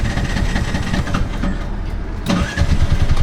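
A tuk-tuk auto rickshaw engine on a Sri Lankan road trip turns over and catches, a loud close rumbling idle with a rising rev partway through.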